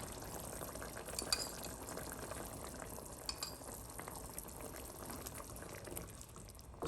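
Soft sizzling and bubbling of mapo tofu cooking in its sauce in a pan, with faint scraping of a utensil stirring, quiet and steady throughout.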